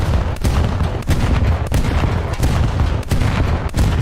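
Naval gunfire at a German destroyer in a video game: a steady run of loud, sharp cannon shots at roughly half-second spacing over a dense, rumbling low roar.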